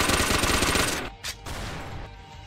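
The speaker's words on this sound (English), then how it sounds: "It uses the rapid fire gun" Rapid-fire gun rattling off a fast stream of shots in a Roblox anime battle game, a dense burst that stops abruptly after about a second, leaving a short pop and softer game noise behind, with no talk.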